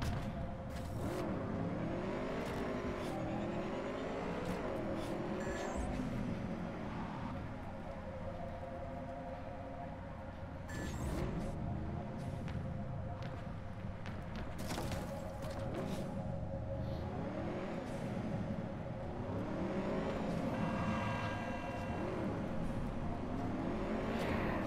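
Motorcycle engine in the Cyberpunk 2077 video game, a steady droning motor whose pitch rises and falls repeatedly with revving, heard close and continuous with occasional clattering knocks.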